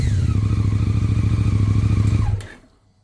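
A vehicle engine with its stock exhaust runs close by at a steady, throbbing idle, loud and even for over two seconds, then shuts off and fades into silence.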